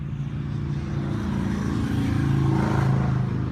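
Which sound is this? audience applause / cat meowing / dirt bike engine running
dirt bike engine running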